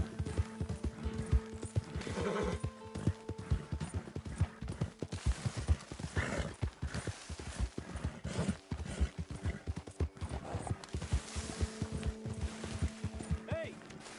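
In Red Dead Redemption 2, a horse gallops with a fast, steady drumming of hoofbeats that runs the whole way through, with a whinny now and then and game voices talking over it.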